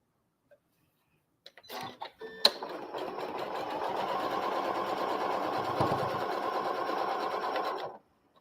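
Close, steady run of a sewing machine stitching along the seams of a quilt block, starting after a few clicks and handling sounds and holding an even whir for about five seconds before stopping.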